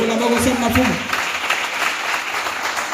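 A church congregation breaks into applause, a dense wash of clapping that swells at once and holds steady, mixed with a few voices and a musical tone at the start.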